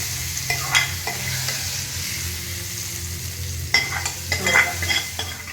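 A mixture stirred into a pan of lady's finger theeyal, with a soft sizzle underneath and a few scrapes and clinks of a spoon against the pan, close by.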